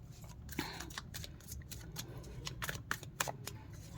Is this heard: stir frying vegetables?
no